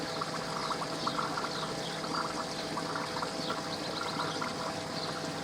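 Water trickles and pours steadily as a koi pond filter backfills from an upstream pod after its pump is switched off, a continuous close splashing wash with no voices.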